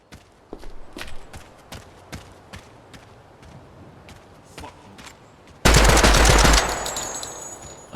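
Rifles firing 5.56 and 30-06 rounds during a weapons test give a rapid string of sharp, loud shots in quick succession, ending in a sustained burst of automatic fire.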